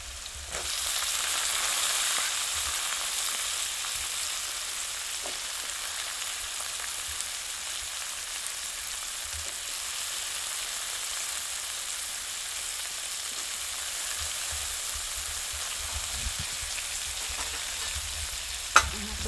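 Onion sizzling steadily in hot oil in a pan for a Gujarati green peas dish, a continuous close frying hiss with occasional faint stirring clicks throughout.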